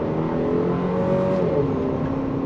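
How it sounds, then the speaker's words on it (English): A 2024 Chevrolet Traverse LS SUV with a four-cylinder turbo engine and 8-speed automatic accelerating hard in sport mode, heard from inside as a steady, loud engine drone and whir with a pitch that rises slightly. "We'll put it in sport. I just had it in normal, and we'll go on throttle here."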